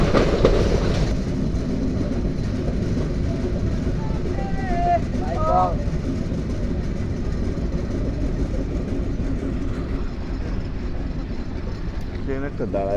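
A train rolls into Tangail railway station with a continuous heavy rumble and rhythmic clatter of wheels on track, steady and loud throughout, with a brief squeal in the middle.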